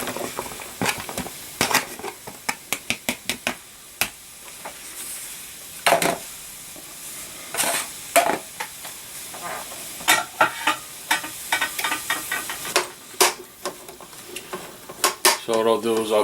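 Chopped mushrooms, a plateful, cook in a hot pan, sizzling quietly while a utensil scrapes and clatters against the pan in irregular bursts, close and fairly loud.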